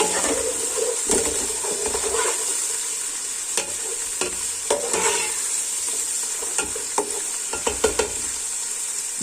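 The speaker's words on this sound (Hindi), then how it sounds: "प्याज लाइट ब्राउन हो गई। अब हम इसमें लहसुन अदरक का पेस्ट डालेंगे" Garlic ginger paste fries with light-browned onions in a beef kofta curry base, giving a constant close sizzle broken by frequent scraping and clanking stirs of a spoon against the pot, with no voices.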